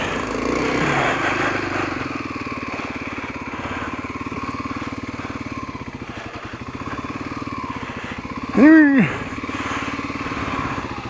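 Kawasaki KLX250SF dual-sport motorcycle engine idling steadily while parking, a close, even low putter with a brief blip partway through and no talk.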